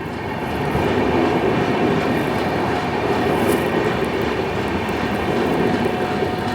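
Garib Rath Express 12517 on the Kolkata–Guwahati route near Kumedpur Junction, rolling steadily along the rails with a continuous close rumble and rhythmic wheel clatter, no talking.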